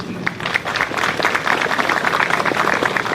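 A crowd applauds after a school director's speech at an Independence Day parade in Yaguarón, Paraguay, with dense continuous clapping at moderate distance.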